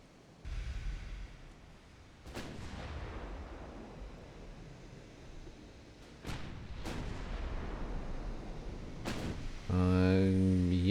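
Naval gun salvos from Mark 1 9-inch guns in a video game, several sharp booms with rumbling tails over a steady sea ambience, ending with a loud tonal game sound.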